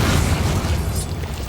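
A Bombarda spell blasting in Hogwarts Legacy, a single loud, close explosive boom with a rumbling, crackling tail that fades over about a second.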